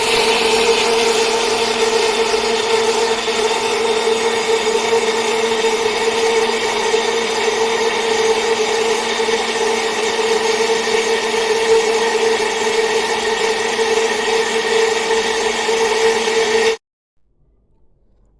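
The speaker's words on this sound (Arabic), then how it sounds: "هشغل الخلاط مرة تاني، ومعايا نص كوباية زيت كمان اهي." Kitchen blender running steadily to mix a homemade cream cheese mixture as oil is drizzled in, a constant loud motor whine for about seventeen seconds before it cuts off abruptly, no talking.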